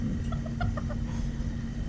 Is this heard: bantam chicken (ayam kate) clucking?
yes